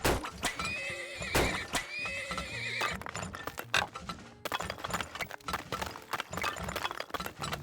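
Horses in the oil-drilling game Turmoil neigh loudly in sharp whinnies, mixed with hoof clatter and game sound effects in a busy, layered mix.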